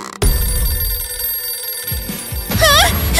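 A telephone bell rings loudly in a cartoon scene, with a burst of warbling electronic ringing near the end over rumbling background sounds.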